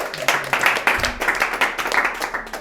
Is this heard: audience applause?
yes